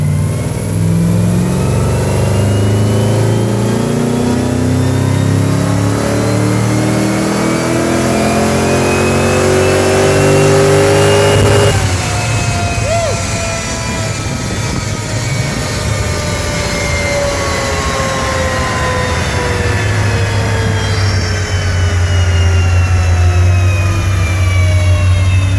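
A Porsche 996 Turbo body with a Renegade LS7 V8 swap runs loud and sustained on a dyno at night, climbing in pitch through a long pull, dropping briefly, then rising again, with no talking.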